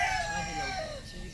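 Chickens cluck close by, and a rooster's crow rings out through the short burst of farmyard sound.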